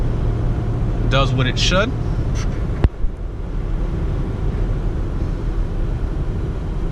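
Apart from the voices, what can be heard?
Jeep Grand Cherokee Limited driving and accelerating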